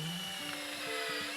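A power drill whines in short bursts driving screws into a closet frame, its motor pitch rising and falling as it spins up and slows, close by and steady.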